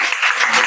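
A short burst of classroom students clapping together during a Hindi grammar lesson, loud and close, lasting under a second.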